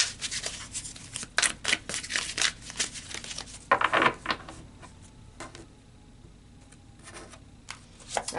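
Tarot cards riffle and flutter in quick bursts of shuffling, with crisp snaps and slides as cards are pulled and set down, close and fairly quiet with no talking.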